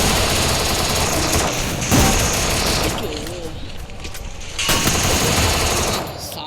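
Rapid automatic gunfire bursts from the Free Fire Max battle royale game, loud and dense, repeating in short volleys with brief pauses, with excited voices talking over it.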